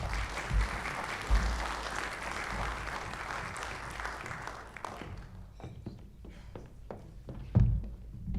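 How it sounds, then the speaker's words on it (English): A crowd claps in steady applause that fades out midway, leaving scattered claps and a few thumps. "let's give these guys another round of applause"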